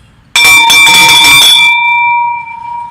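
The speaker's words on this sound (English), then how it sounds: "That bell's on its last days." A worn handbell, one close loud ring with clanging strokes that then hangs and decays into a long, clear ringing tone.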